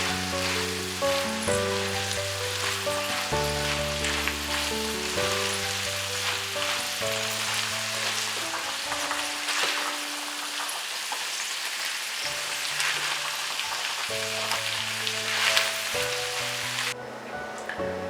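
Fried chickpeas sizzle steadily in a pan while a spoon stirs them now and then, a continuous crackling hiss under background music.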